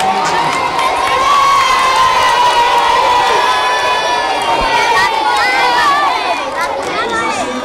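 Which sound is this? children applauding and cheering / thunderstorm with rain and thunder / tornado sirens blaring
children applauding and cheering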